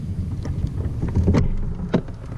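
Paddle strokes from a fishing kayak on open water, a few soft splashy swishes close by against a steady wind-buffeted background.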